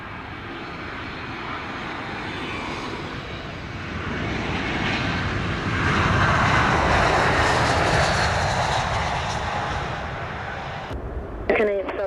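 Fixed-wing airliner landing on runway 25 at Sangster airport in Montego Bay, Jamaica, its engine roar swelling to a broad peak midway and easing off, with a brief tower radio voice near the end.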